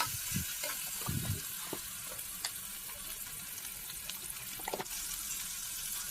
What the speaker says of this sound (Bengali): তেলের মধ্যে দিয়ে আমি মশলাগুলো বেশিরভাগ তোমরা দেখো যাতে গন্ধটা ছেড়ে যায়